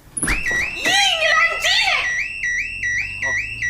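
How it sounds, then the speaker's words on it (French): Home security alarm going off indoors, a loud repeating electronic warble that keeps cycling while children shout and scream over it nearby. "Je pensais que le système d'alarme fonctionnait pas."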